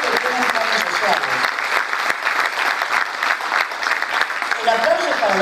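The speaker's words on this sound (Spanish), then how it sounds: "El aplauso es para los diputados que tienen el proyecto." Strong, steady audience applause rolls through a lecture hall during a public talk, with a voice speaking over the dense clapping.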